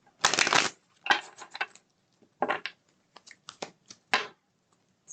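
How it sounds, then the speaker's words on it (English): Tarot cards shuffled by hand in several separate bursts of crisp riffling and slapping, close and clear, with short pauses between and no talking. "So I'm going to shuffle these a couple more times here."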